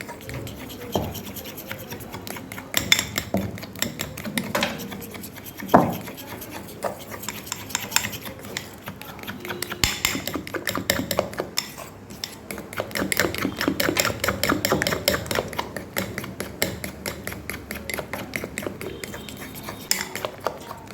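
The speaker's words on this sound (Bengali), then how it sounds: "এই ব্যাটারটাকে আমরা ভালো করে মিশিয়ে নেব।" A spoon scrapes and stirs a thin batter of flour and cornflour in a bowl for a mochar chop, an irregular run of rubbing, scraping strokes and light knocks against the side, close and fairly quiet, with no talking.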